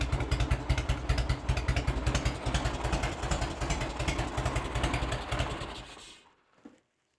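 A 1986 Harley-Davidson Heritage Softail with an Evo engine runs at a close, loud, lumpy idle with a steady pulsing beat, first start in years, then shuts off near the end and falls silent.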